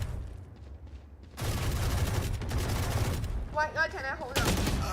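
Gunfire from target shooting practice in a video game, with bursts of rapid shots after a quieter start, and a voice briefly heard between the volleys.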